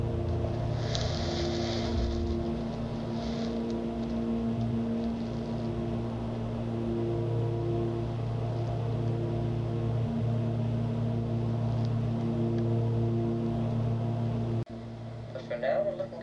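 Inside a small airplane cabin in steady flight, a constant droning engine hum with steady tonal layers fills the space at a moderate level, then drops off sharply near the end.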